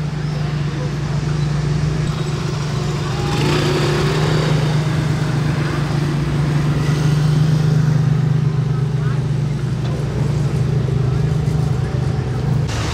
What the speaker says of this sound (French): Et là c'est Ferrari Enzo juste derrière.